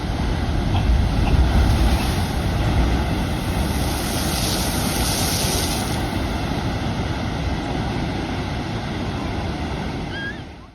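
Loud, continuous roar of surf and churning water, with heavy wind buffeting the microphone throughout.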